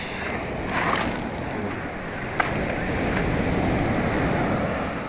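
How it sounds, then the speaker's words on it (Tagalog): Surf breaking on a white sand beach in Baler, Aurora, a steady broadband wash of large afternoon waves close by, with gusts of wind buffeting the microphone and one brief sharp knock partway through. "pero malalaki pa din ang alon kahit hapon na"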